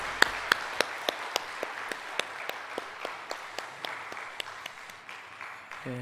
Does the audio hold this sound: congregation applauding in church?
yes